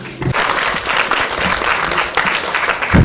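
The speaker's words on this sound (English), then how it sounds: "Well, you deserve this round of applause" Sustained applause from a conference audience in a hall, steady clapping throughout with a louder swell near the end.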